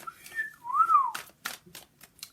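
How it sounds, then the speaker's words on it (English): A short human whistle of a rising and then falling note, followed by several brief clicking and tapping noises, close and fairly quiet, with no talk. "give us a whistle"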